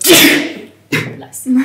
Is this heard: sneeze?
yes